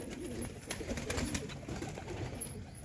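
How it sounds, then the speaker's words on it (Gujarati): Pigeons cooing while feeding, soft low rolling coos repeating under a faint hiss of background noise, fairly quiet and close. "આ બીજા બધે કબૂતર અહીંયા ચણે છે"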